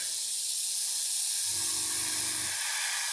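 A Gaahleri GHAC-98D airbrush spraying heavily, giving a steady, close, continuous hiss of air, with a low mechanical hum from a compressor or pump joining partway through and cutting off again.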